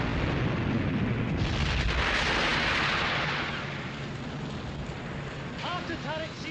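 Naval turret guns fire aboard a WWII cruiser at sea in battle, heavy dull booms rolling into a dense roar of wartime noise, with a voice speaking near the end.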